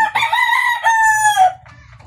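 A young five-month-old stag rooster, a Red Kelso cross, crows once loud and close, with a hoarse, wavering cock-a-doodle-doo that breaks off into quiet background noise.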